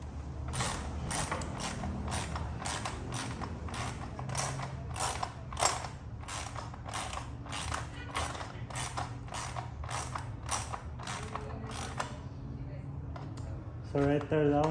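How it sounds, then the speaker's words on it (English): Bolts are tightened on a Vortex tuner bracket on a YFZ450R ATV, with a run of quick, evenly spaced ratchet clicks that stop near the end, and a brief rattle of handling follows. "you're gonna just keep tightening them until they get tight, till your bracket tightens up like this"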